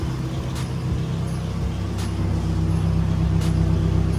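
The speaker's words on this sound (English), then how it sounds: "Jones is messing with the idle right now so we could get it idled correctly." A Nissan 240SX engine idles while its idle is being adjusted: a steady close low rumble with a constant hum and faint periodic ticks, the level creeping up slightly near the end, with no talking.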